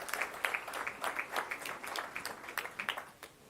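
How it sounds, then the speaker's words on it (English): Modest applause from an audience at a medtech summit, greeting India's Minister of Commerce and Industry, with individual claps standing out in an uneven rhythm, fairly quiet and thinning out toward the end. "Let's have a huge, rousing round of applause once again for the Honorable Minister of Commerce and Industry"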